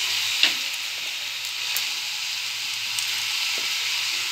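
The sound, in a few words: turmeric and spices added to sizzling hot oil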